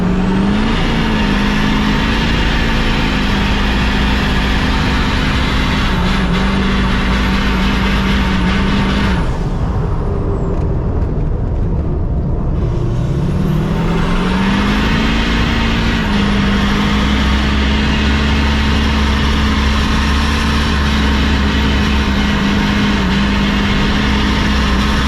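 A Caterpillar-engined truck drifting through corners, its diesel roaring loud and steady throughout with a brief dip and swell in revs midway, close and continuous with no voices.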